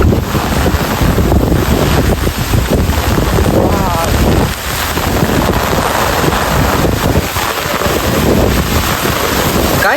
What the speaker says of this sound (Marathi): काय पाऊस पडतो भाई